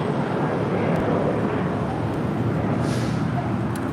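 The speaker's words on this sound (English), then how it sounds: "That was Southwest 939 taking off to Houston Hobby" Distant Southwest Airlines jet taking off at LAX, bound for Houston Hobby: a steady broadband roar with low rumble, fairly faint and continuous throughout, without talk.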